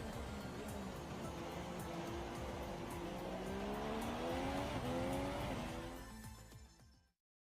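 Race car from the F1 2017 racing game, a steady, moderately loud engine drone that rises in pitch as it accelerates, then cuts off abruptly at the end.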